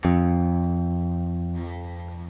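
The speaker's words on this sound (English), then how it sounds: "You don't want it to ring at first like this and then fizzle out." A single plucked guitar note, fretted without enough pressure, rings out loud and steady, then abruptly thins and buzzes out after about a second and a half.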